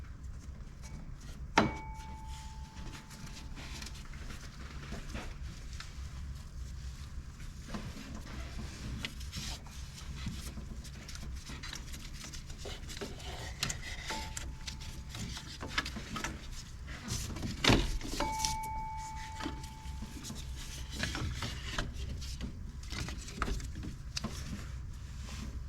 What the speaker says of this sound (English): And now I can remove the serpentine belt.